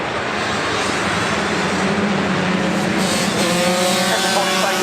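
Pit bikes racing in a British Supermoto Championship round at Cadwell Park, a dense blend of buzzing engines under a wash of broad noise, with one bike's note rising clearer toward the end.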